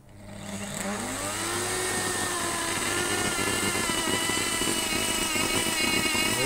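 A Miele Complete C3 Extreme Powerline vacuum cleaner runs continuously up close, a loud, steady motor whine and airflow roar that ramps up over the first second and then holds constant with no talk.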